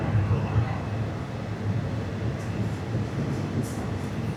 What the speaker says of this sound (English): On time, this train.